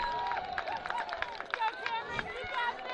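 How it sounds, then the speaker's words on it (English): Crowd at a college baseball game between Earlham and Wisconsin-Oshkosh, a busy murmur of many voices with scattered shouts and whistles, heard at a moderate distance throughout. "Now you hear the crowd back into it."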